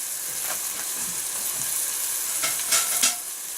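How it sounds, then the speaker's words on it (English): Dumplings fry in a hot pan with a continuous close hiss and sizzle, broken by a couple of louder crackling bursts near the end. "you'll see that dumplings are starting to fry up nicely"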